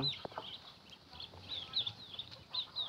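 A rooster among farm fowl near a coop gives repeated soft clucks over a noisy outdoor background, close and moderately loud.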